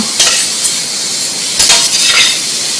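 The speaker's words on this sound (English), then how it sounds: "Zucchini cooks fairly quickly, so you just want to keep stirring it with your tongs as you go" Zucchini cooking in a pan while tongs stir it, giving a loud steady sizzle with a few brief clinks and scrapes of the tongs, close up and without talk.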